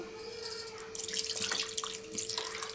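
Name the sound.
glass of water poured into fish curry pot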